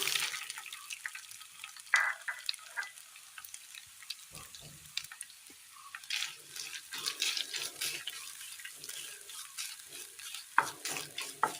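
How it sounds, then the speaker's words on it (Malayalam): Grated coconut frying in a little oil in a pan, a steady soft sizzle with repeated stirring scrapes and clinks throughout, close by with no talking. "പാനിലേക്ക് അല്പം എണ്ണ ഒഴിച്ചു കൊടുക്കാം തേങ്ങ ഇട്ട് കൊടുക്കാം"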